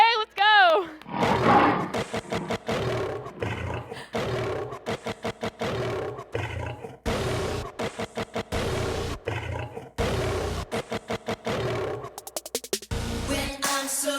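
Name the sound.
children imitating loud lion roars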